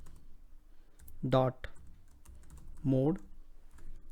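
Computer keyboard typing of a Power Query formula, soft clicks running quietly in the background beneath two short voiced sounds from a person.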